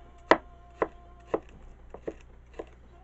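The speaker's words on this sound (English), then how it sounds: "And then I just kind of give them a little chop." A knife chops jalapeno peppers into small pieces: six crisp, close strikes spaced roughly half a second apart, with no talking.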